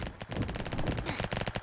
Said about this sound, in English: Let's activate the fire effect.